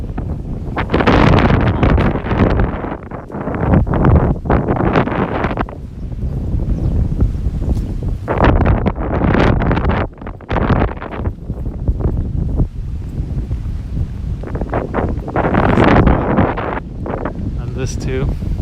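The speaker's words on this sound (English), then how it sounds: "Flying with the wind here, oh my gosh." Strong gusting wind buffets the microphone on a windy day in Tokyo, Japan, roaring loudly and continuously with surges and lulls, while people talk over it now and then.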